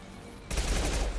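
Gunfire in the video game Mass Effect 2 erupts abruptly after a quiet moment, a loud burst of rapid automatic shots sustained until the clip ends.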